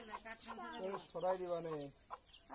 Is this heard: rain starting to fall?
no